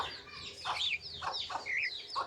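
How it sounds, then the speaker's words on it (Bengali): Chickens cluck at a rural village home: repeated short clucks and squawks in several bursts, close and fairly loud, with a ducks' presence nearby and no talking. "মুরগি তো আছেই সেই সাথে হাঁসও আছে দেখেন"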